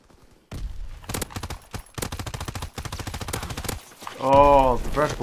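Rapid automatic gunfire from Call of Duty WW2 plays in loud, close bursts separated by brief pauses, with a short stretch of voice heard near the end.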